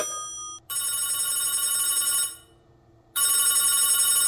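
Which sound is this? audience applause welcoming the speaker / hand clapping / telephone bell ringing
telephone bell ringing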